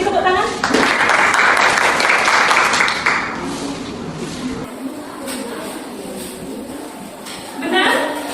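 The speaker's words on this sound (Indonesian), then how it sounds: "beri tepuk tangan" Applause fills a classroom for a few seconds, a dense patter of many hands clapping that fades into voices and general room chatter.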